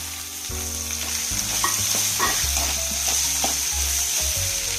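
Onions for a dried fish curry fry in a pan with a continuous close sizzle and crackle, joined by a low steady hum and a few soft stirring scrapes, no voices.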